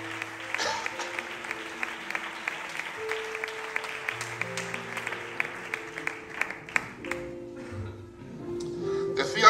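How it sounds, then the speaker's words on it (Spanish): A church congregation claps along during a worship service, with sharp, rhythmic hand claps over sustained organ or keyboard chords, moderately loud in a reverberant hall and building toward the end. "Fuerte el aplauso para Dios"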